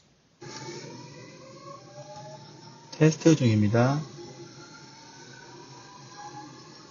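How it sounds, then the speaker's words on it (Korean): A subway train rumbles and squeals, its wheels whining loudly for about a second, captured through a Jabra Elite 5 earbud microphone while a voice speaks briefly. "다음은 지하철 소리입니다."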